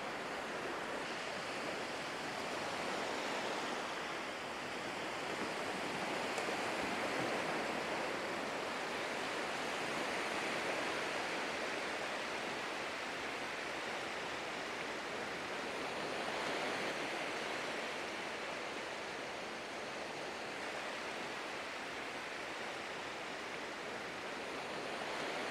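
Sea surf at Tam Bien beach in Vietnam makes a continuous, faint wash of breaking waves with gentle swells, a soft hiss under light wind, and no voices.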